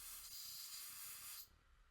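An airbrush or spray can hisses steadily onto a Land Raider miniature tank model, a continuous close spray that cuts off abruptly near the end.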